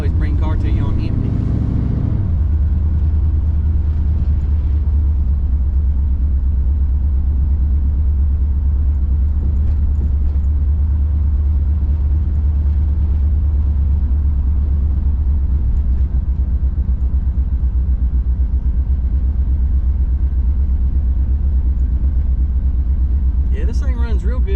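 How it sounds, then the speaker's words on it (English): Engine of a Cutlass on 24-inch wheels running steadily at cruising speed, a continuous deep low rumble filling the whole stretch with a brief louder surge at the start and near the end. "this thing runs real good at a cruise."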